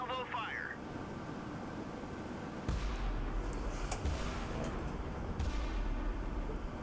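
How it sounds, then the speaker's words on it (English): Large naval guns in the Sea Power naval warfare game fire at a distant silo, with a sudden deep boom, then rumbling blasts and a second heavy shot over constant low engine drone, as a person talks. "Just gonna give it some shots with my large scale guns here."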